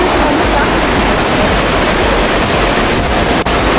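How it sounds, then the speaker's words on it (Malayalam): Water released from a dam rushing down at Perunthenaruvi waterfalls, a loud, steady, full-band roar that fills the whole stretch without break. "ഡാമിൽ നിന്ന് വരുന്ന വെള്ളമാണ്"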